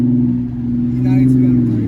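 A 2003 BMW E90 with modified suspension rolls past as it turns, a steady low engine drone heard close up, with muffled voices faintly underneath.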